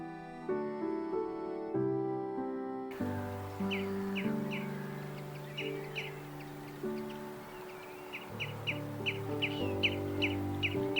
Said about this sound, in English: enjoying the chirping of birds and the rustling of leaves